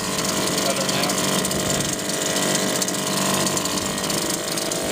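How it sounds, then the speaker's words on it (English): A sailboat's engine put into gear with the propeller engaging, a steady loud mechanical drone with dense ratcheting, gear-like rattle throughout and no break, a voice faintly underneath. "Just gonna put it in gear, activate the propeller"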